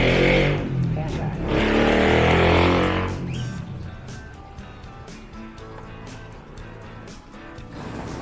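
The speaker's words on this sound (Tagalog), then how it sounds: "Pasensya na kayo sa mga ingay ng motor dito, no? Yung mga tambucho nila." Loud motorcycle exhausts roaring past on a Philippine street, two strong surges in the first three seconds, then a lower rumble of traffic lingering in the background.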